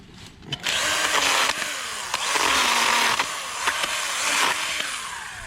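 A Stihl GTA 26 battery garden pruner cuts through branches outdoors, its motor whining loudly and steadily in several close bursts with brief dips between cuts.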